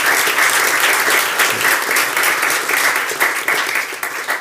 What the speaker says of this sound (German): erstmal einen herzlichen Applaus für die beiden Referenten heute